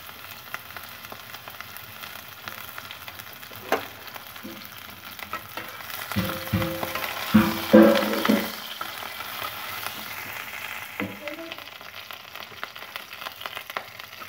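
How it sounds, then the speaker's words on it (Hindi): Chopped onions fry in hot oil in a kadhai, giving a continuous soft sizzle that swells louder for a few seconds midway as they are stirred, then settles back to a quieter hiss. "तेल अच्छे से गर्म हो गया अब मैंने इसमें कटे हुए प्याज डाले"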